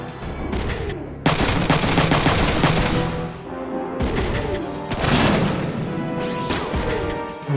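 Heavy mech weapons fire in the tactical game Front Mission 3: loud repeated bursts of rapid shots and booming impacts in several waves, with no talking.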